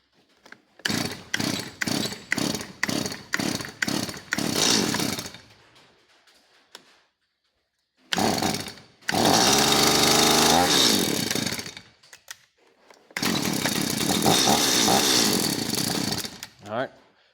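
A Stihl MS170 chainsaw after a carburetor replacement, first a series of sharp pull-start bursts, then the engine catching and revving loudly in long sustained runs separated by short pauses, close and harsh.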